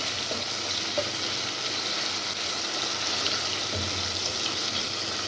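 Chopped tomatoes fry in a pan with a constant, even sizzle and faint stirring movements throughout, with no voices over it.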